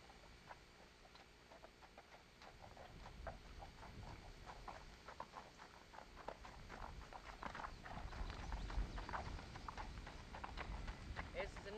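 A gaited trail horse walks with a quick, steady clip-clop of hooves on the ground, a soft rhythm building slightly louder over time while voices talk in the background.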